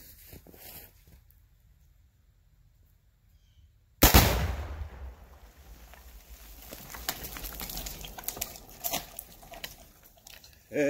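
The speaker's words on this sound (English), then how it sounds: "Let's see how this Tannerite explosion works" A Tannerite target detonates outdoors with a single abrupt, heavy boom after near silence, followed by a long rumbling, crackling tail of scattered debris and wind noise.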